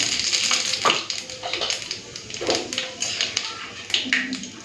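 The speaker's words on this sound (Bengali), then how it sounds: "তেলটা গরম করে নিয়েছি। ফোড়নে দিচ্ছি শুকনো লঙ্কা আর 5 ফোড়ন।" About three dried red chillies and five-spice hit hot oil with a steady crackling sizzle, scattered pops and sharp spits rising over a constant hiss. No voice is heard.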